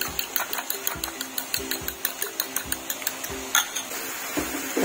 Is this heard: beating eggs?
yes